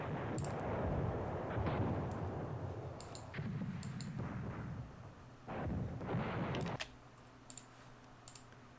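Muffled artillery bombardment in the wargame Command Ops 2, a series of deep rumbling booms rolling in waves at moderate distance, mixed with sharp mouse and keyboard clicks.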